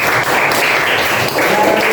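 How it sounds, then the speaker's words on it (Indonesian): Applause in a classroom or school gathering for Pak Mahfud, a steady wash of clapping from a group with faint voices mixed in. "Tepuk tangan untuk Pak Mahfud"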